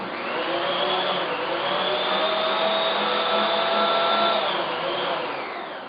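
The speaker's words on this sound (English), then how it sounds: "after you get all those in the bowl, you mix that for about 10 seconds or so" An electric hand mixer whirs steadily as it beats eggs and batter in a mixing bowl, a loud continuous motor drone with a slight pitch shift partway through, then easing off near the end.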